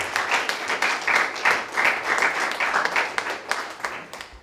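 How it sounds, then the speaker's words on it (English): An audience at a political kickoff event for a California disclosure bill breaks into steady, dense applause, many hands clapping together at an even level with a few sharper individual claps standing out. "Let's give yourselves a round of applause."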